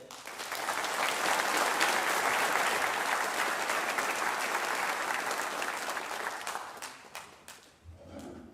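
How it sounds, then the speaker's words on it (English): Audience at a sheriff's office cadet class graduation applauds steadily for several seconds, dense clapping that swells and then tapers off near the end. "let's give a big round of applause"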